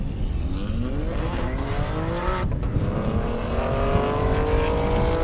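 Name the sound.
BMW drag racing car at airstrip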